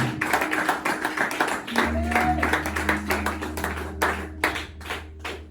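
A church congregation claps loudly in a French-language seminary service, giving a dense, rhythmic patter of many hands under continuing background voices.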